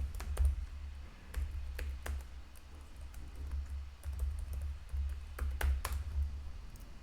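Someone types a new password on a computer keyboard, pressing scattered, quiet key taps at an uneven pace over a low steady hum.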